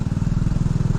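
A Honda Revo FI motorcycle fitted with a Racing R9 exhaust, its joined midsection leaking slightly, idles with a rapid, even, throbbing exhaust pulse, close and steady for about a second.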